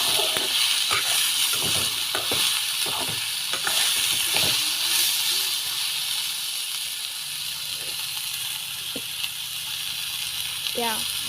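Taro pieces fry in a pan with a continuous soft sizzle, and scattered clicks and scrapes of stirring punctuate it.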